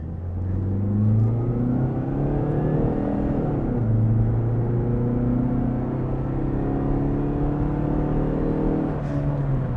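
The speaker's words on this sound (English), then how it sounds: "you can hear the engine is pretty loud" A Chrysler PT Cruiser engine drones loudly from inside the cabin, pitch climbing steadily through the gears with brief drops at each shift.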